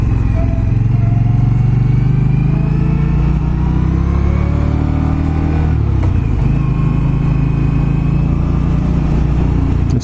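Indian Scout Bobber motorcycle riding along, its engine a loud, steady low rumble with harmonic drone throughout and a brief dip in revs midway before pulling again.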